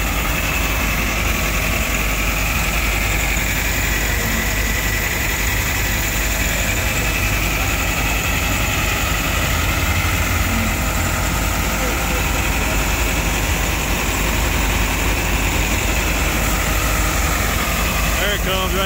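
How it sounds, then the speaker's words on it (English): Old steam engine fired up and running for threshing, a steady loud low rumble and mechanical drone throughout with constant vibration, close by, with people talking over it. "They just fired the old steam engine up,"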